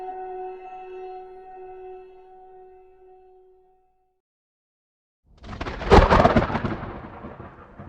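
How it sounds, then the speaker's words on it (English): A thunderclap in a storm bursts in suddenly after a few seconds of quiet: a loud, sharp crack that rolls into a broad rumble and slowly fades. Soft sustained musical tones play before it, then die away into silence. "a thunderclap made her look up and out of the window"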